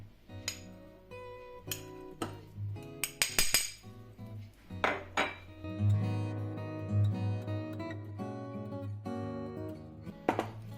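Spoon clinking against a bowl while stirring sour cream with baking soda, with irregular taps and scraping over a steady low mechanical hum; no talking.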